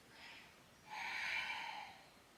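Two breaths during a Pilates side bend: a short, soft inhale and then a longer, stronger exhale, both close and airy. Nobody speaks.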